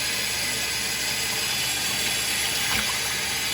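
Tap water runs steadily into a container being filled to soak vintage cans, a continuous close hiss and splash with a brief louder gurgle near the end and no talking.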